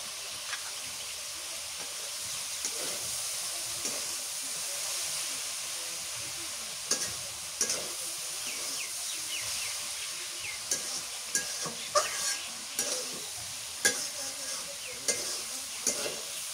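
Slices of eggplant frying in a pan with a low, steady sizzle, broken by several sharp clinks and scrapes as they are turned, with no one speaking.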